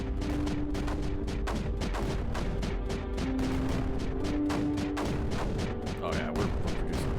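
Cannon fire in the strategy video game Creeper World 4, a dense rapid stream of sharp repeated shots over steady game background tones, loud and constant with no pauses.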